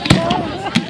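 July 4th fireworks in Margate, New Jersey burst close by with a few loud sharp cracks and pops in quick succession.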